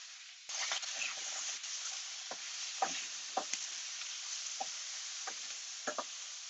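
Tomatoes for a vegetarian paella sizzle in a hot pan with a steady bright hiss, broken by several short scraping knocks as they are stirred.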